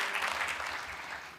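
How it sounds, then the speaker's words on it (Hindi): Brief, steady applause from an audience at a Hindi comedy poetry gathering, a soft continuous patter of many hands. "एक बार तालियां बजा दीजिए"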